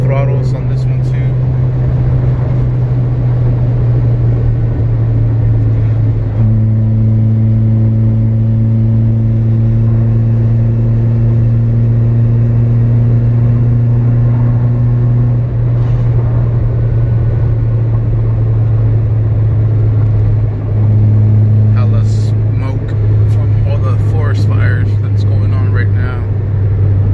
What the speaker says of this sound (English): Doing open throttles on this one too.